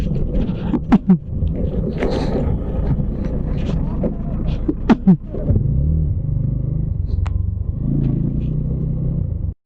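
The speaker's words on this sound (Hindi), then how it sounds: "लो अब मेरे पीछे गाड़ी आ गई।" A car approaches from behind on a mountain road on the Saach Pass to Killar route. A low engine rumble runs under wind buffeting on the microphone and a rider's talk.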